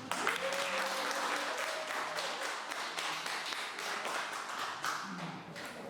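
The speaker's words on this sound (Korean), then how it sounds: "큰 박수로 맞이해주세요" An audience claps at length to welcome a professor to the stage of a city regeneration seminar, a dense steady round that is sometimes crisp and fairly close, with some speech faintly underneath.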